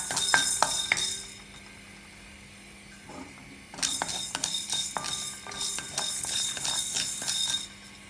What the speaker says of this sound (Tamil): இனி 1 தேக்கரண்டி மிளகாய் போட்டு வறுக்கிறேன்.